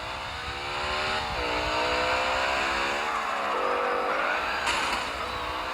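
A tuned car in the street-racing game CarX Street on a test drive, engine revving loudly and continuously with rising pitch and quick gear-shift dips, close and alone without talk.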